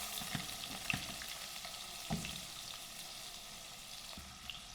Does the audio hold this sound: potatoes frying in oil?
yes